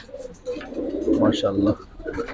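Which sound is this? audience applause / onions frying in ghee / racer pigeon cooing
racer pigeon cooing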